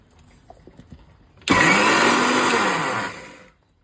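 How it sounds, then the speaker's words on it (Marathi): A kitchen mixer grinder blends ground peanuts with water for a curry, starting with an abrupt whirr that runs loudly for about two seconds, then winds down, with light clicks before it and no talk. "आता मिक्सरमध्ये बारीक झाले आता यात आपण पाणी घालून ते सगळं मिश्रण एकजीव करणार"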